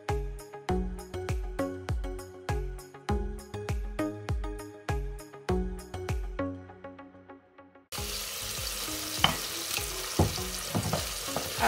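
Homemade chili sautés in a pot, a steady hiss and sizzle with small pops near the end, coming right after a long stretch of rhythmic plucked music notes.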